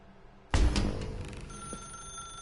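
A telephone in The Stanley Parable rings out suddenly after a quiet moment, a bright electronic bell tone that sounds, then trails into a sustained ringing hum, with no talk.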